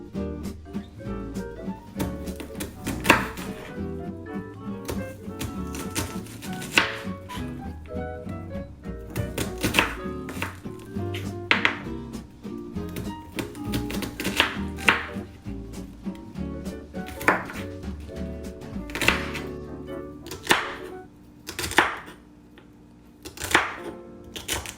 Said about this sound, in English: Then chop your onion and celery into small bits.